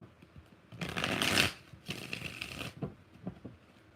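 Two bursts of tarot card shuffling, a longer riffle followed by a second one, then a few soft taps as the cards settle. Close and fairly quiet, with no talking.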